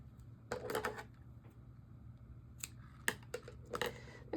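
Scissors snip yarn during loom knitting, a few quiet sharp cuts: one cluster early, then several crisp snips a couple of seconds later, close and otherwise quiet with no speech.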